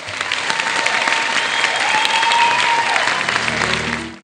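Audience applause at a live talk event with a singer as guest, a steady wash of clapping from a seated crowd that holds strong for about four seconds before fading out at the end.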